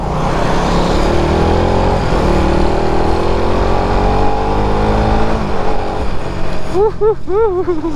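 A motorcycle engine with a freshly cleaned throttle body hums and revs on a test ride along a slippery road, pitch rising and falling through gear changes, with a voice briefly heard near the end.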